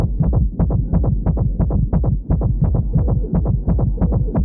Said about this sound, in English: they recorded her heartbeat, and this was the first time she ever saw Nicolas Cage in makeup, and her heartbeat climbed like crazy.